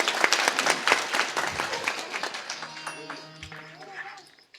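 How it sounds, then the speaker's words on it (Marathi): An audience at a Marathi kirtan breaks into loud, dense applause, many hands clapping at once, then the clapping thins and fades over a few seconds while a voice and faint tones carry on underneath. "आमच्या दादांचं कौतुक म्हणून एकदा जोरदार टाळी वाजवा."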